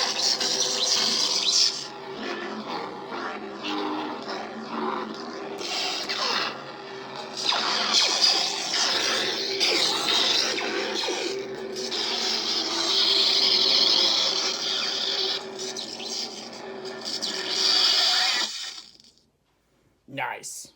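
An unstable lightsaber sound font crackles and sputters continuously from a Requiem crossguard saber, a harsh, gritty buzzing hum with irregular flickering bursts, loud and close, ending in a brief pause and a final clash.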